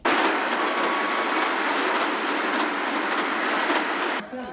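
A passenger train travelling from Varanasi to Prayagraj, heard as a dense, steady rumble with faint rhythmic wheel clatter, close and loud, then cutting off abruptly near the end.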